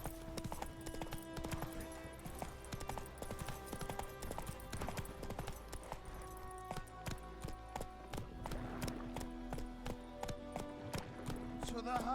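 Horse hooves in The Witcher 3: Wild Hunt on PS5, a steady rapid clip-clop of a galloping horse under game music, with a voice speaking over it.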